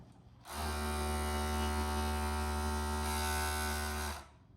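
A sewing machine stitches the side seam of a flared skirt with a steady, low electric hum. The run lasts about four seconds, starting and stopping abruptly, and is faint with no speech.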